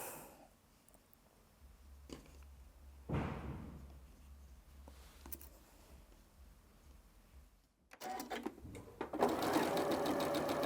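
A home sewing machine stitches quilt binding in a steady, fast mechanical whir, with a few soft thumps as the fabric is handled, then the motor runs louder and brighter toward the end.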